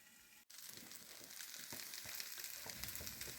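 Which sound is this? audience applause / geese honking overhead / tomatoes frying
tomatoes frying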